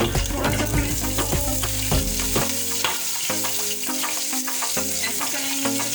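Half a teaspoon of cumin seeds frying in a pan, a loud, continuous sizzle with crackles and irregular stirring clatter throughout.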